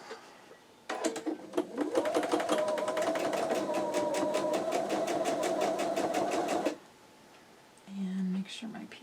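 A sewing machine stitches small quilt block pieces in a fast, even run of needle strokes lasting several seconds, close and clear, then stops. A brief quieter sound follows.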